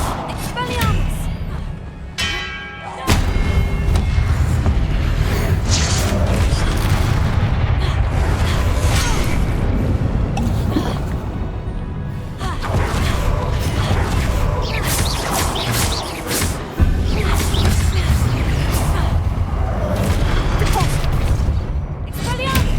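Expelliarmus and other spells are cast during a hard-mode duel in Hogwarts Legacy, landing as repeated loud booming blasts and crackling bursts across a busy, noisy fight with voices in the mix.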